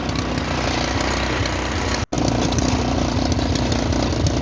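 A vehicle engine runs steadily while someone drives on a rough road in the Solang Valley area of Himachal Pradesh, a constant close mid-pitched hum with a single split-second dropout midway.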